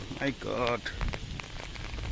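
Heavy storm rain and gusting wind batter a London street where a tree has fallen onto cars, a steady broadband wash of drops and gusts filling the scene while a voice briefly talks over it near the start.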